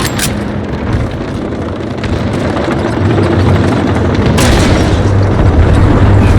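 A cruise missile strike in Call of Duty: Modern Warfare lands as a loud, sustained booming explosion with heavy low rumble and a sharp crack partway through, close and overwhelming with no speech.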